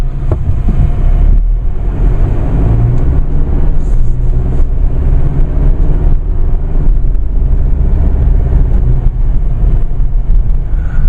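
A 2016 Chevrolet Colorado LT 4x4 with a 2.8 liter Duramax diesel drives along, its engine a loud, continuous low rumble heard from inside the truck with no talking.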